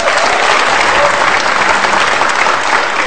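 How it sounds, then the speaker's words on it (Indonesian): A studio audience at a televised political talk show breaks into loud, sustained applause, with thick uniform clapping filling the whole stretch at constant strength. "Boleh kasih tepuk tangan kalau begitu."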